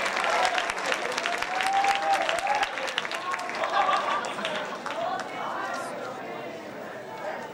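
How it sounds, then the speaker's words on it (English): Audience applause at an Academic Decathlon awards ceremony for the science category winners: steady dense clapping throughout, with voices and a few cheers rising over it, easing slightly toward the end. "Let's give a big round of applause for all of our winners in the category of science"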